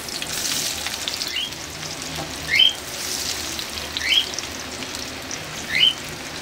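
Marinated soybean chunks frying in hot oil give a steady, close sizzle throughout, with three brief louder bursts of crackling spaced a couple of seconds apart.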